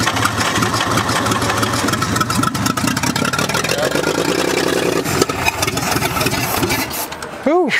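Engine of a 1946 International truck after sitting abandoned for about 50 years, running roughly and unevenly with a sputtering, ragged mid-pitched note over constant noise before cutting out sharply near the end.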